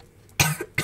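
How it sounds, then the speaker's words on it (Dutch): A person with a fever and a bad cough gives two harsh coughs close to the mic, one strong burst followed by a shorter second one, with a quiet pause before them. "Ik hoest."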